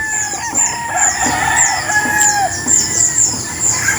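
Several young roosters (stags) crow repeatedly across a farm, overlapping calls near and farther off, with some clucking from tethered fowl in between.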